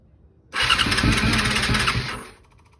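A 2000 Yamaha R6 motorcycle engine on choke fires after a starter crank and runs roughly for about a second and a half, loud and close, then dies away.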